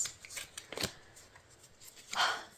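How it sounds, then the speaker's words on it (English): Tarot cards being shuffled, a run of crisp riffling bursts and slaps at close range, uneven in rhythm, with one louder flurry near the end. "as I'm shuffling out your cards"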